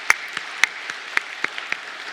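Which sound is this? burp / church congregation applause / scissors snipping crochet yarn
church congregation applause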